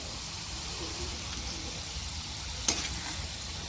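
Kachoris frying in oil over a low gas flame give a steady, soft broadband sizzle throughout, with one brief sharper crackle near the end and no talk.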